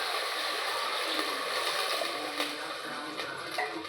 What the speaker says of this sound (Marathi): ग्लासभर पाणी टाकलेलं आहे त्यांनी.